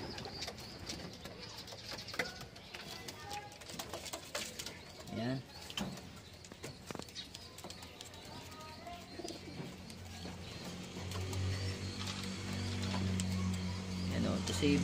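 Pigeons cooing nearby in low repeated calls over a steady background hum, with someone talking throughout.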